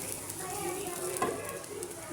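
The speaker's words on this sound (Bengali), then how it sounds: "চালটা দিয়ে দিলাম, নাড়াচাড়া করি," Raw rice is stirred and fried in a pan for pulao, giving a soft, steady sizzle with light scraping strokes, fairly quiet and close, with no talking.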